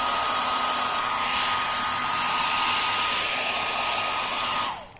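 A hair dryer blows dust out of a Lenovo laptop keyboard, a steady close, loud whooshing roar with a faint whine that runs alone and then cuts off just before the end.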